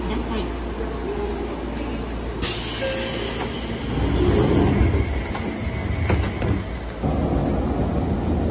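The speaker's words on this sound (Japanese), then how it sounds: "列車ね、武蔵境を出発。" Interior of an older Seibu New 101 series train departing Musashi-Sakai station, a low rumble building as it gets under way, with clanks and rolling noise growing louder midway, while someone talks over it.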